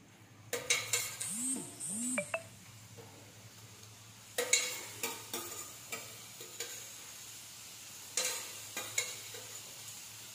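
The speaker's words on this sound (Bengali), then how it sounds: "আলুটা তুলে নেব, ফির ডবল করে ভেজে নেব" Potato pieces double-frying in hot oil give a soft sizzle under scattered scrapes and clinks of a utensil stirring the pan, arriving in short bursts separated by quieter stretches.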